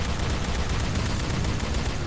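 Rifle gunfire in the sci-fi shooter Star Trek: Elite Force II, a steady dense stream of shots with no pauses, loud and close throughout.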